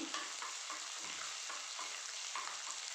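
Ginger garlic paste fries with onions and green chillies in a pan for egg fried rice, a steady, close hiss of sizzling oil with rhythmic stirring scrapes throughout.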